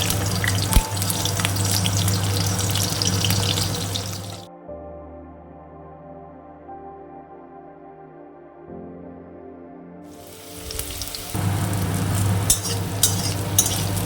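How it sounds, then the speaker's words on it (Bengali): Bitter gourd frying and being stirred in a pan makes a hissing sizzle with scraping. It fades to a quiet hum in the middle, then the loud sizzle resumes. "আগে উচ্ছেটা ভেজে নিয়ে তারপরে পেঁপেটা দেবে উচ্ছেটা দিয়ে দিলাম"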